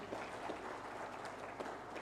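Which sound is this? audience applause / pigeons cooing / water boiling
audience applause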